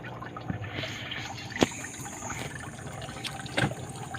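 Water pours and trickles into a small baby fish pond tank, a steady low splashing stream with a couple of brief sharper splashes, close by and with no talk.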